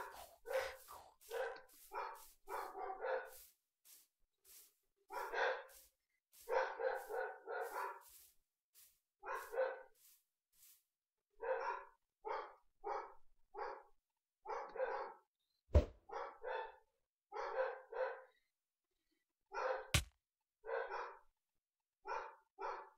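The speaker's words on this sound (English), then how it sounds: "Dogs are barking up front for like no reason." Dogs in the Minecraft-based game Pixelmon bark in repeated short bursts, clustered yaps and pauses over about twenty seconds, clear and fairly close, with a couple of sharp clicks between.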